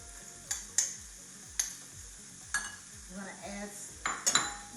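Beaten egg being mixed into 24 ounces of ricotta cheese in a bowl, heard as a series of sharp utensil clinks and taps against the bowl at an uneven rhythm, with soft scraping in between and no talking.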